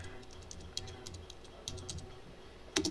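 Light typing on a computer keyboard, a scattering of soft clicking keystrokes in uneven bursts, quiet and close, ending with a sharper tap.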